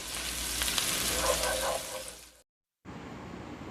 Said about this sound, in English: we're going to start with our base of onion and garlic. Let's saute for 2 minutes.